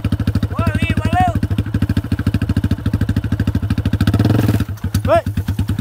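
A quad bike engine chugs in a close, rhythmic, pulsing idle, then revs up briefly before settling again. Excited voices call out over the engine.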